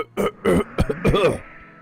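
A voice imitates a video game character coughing up a gem: a few short, harsh retching coughs and a gurgling heave, close and dry.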